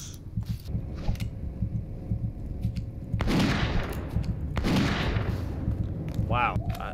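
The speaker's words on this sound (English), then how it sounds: "It's just me running back, taking a few shots off." Gunfire in the video game Witch Hunt: a few sharp shots ring out at intervals, two louder bursts in the middle, over a constant game background with faint ambient sounds and no speech.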